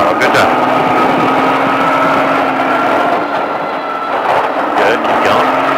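An exotic car on a Speed Vegas off-road Baja course drones loudly and continuously as the throttle is applied, its engine tone rising slightly and holding under a voice giving driving instructions.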